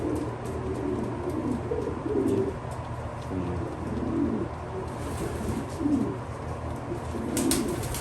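Pigeons cooing in a pigeon loft, repeated soft low coos from several birds at close range over a faint background hum.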